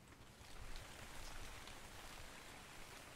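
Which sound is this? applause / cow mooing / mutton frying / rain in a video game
rain in a video game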